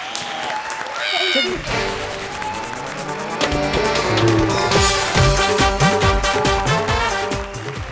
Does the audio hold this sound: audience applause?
yes